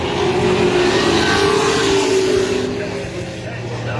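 Race cars running side by side around an oval track near the tail end of a race, a loud continuous engine roar sweeping past, close and sustained.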